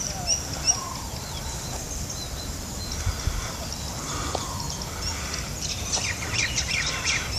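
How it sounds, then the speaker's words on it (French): Small chirping calls from birds near their nest under a walkway among coconut palms, faint and scattered over a steady outdoor wash of wind and ambient noise. "Voilà, les oiseaux et leur nid,"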